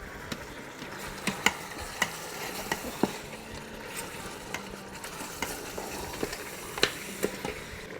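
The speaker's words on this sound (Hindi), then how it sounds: "बस इसको हम मसालों के साथ अच्छे से भूनेंगे जब तक कि मसाला चिपकने ना लगे" Mutton pieces are being fried and stirred with spices in an Instant Pot for a shahi korma, with a steady sizzle and a clatter of scattered spoon scrapes and taps close by. No voices can be heard.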